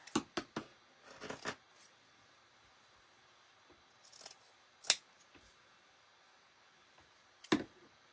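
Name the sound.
cutting paper eyes with scissors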